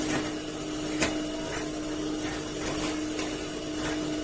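A sewing machine stitching a blouse runs with a steady mechanical hum and faint regular ticks from the needle, close by and with no talk.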